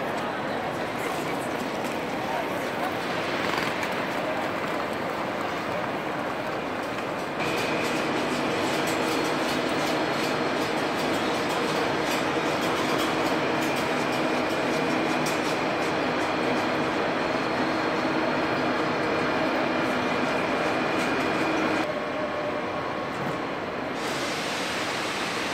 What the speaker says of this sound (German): also die Ausfahrt eines TGV nach Marseille